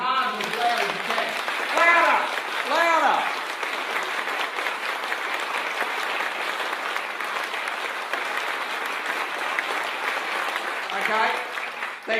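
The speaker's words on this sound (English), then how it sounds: "That spontaneous round of applause you just gave me" A keynote audience, urged to clap as hard and loud as possible, bursts into a steady, vigorous wall of applause, with cheering voices rising above it at moments throughout.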